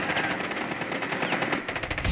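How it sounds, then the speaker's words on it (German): Rapid automatic gunfire crackles in bursts through a round of the shooter game Rainbow Six Siege, sharp repeated shots running almost continuously at moderate loudness. "Die Schüsse da aus der Wand kommen."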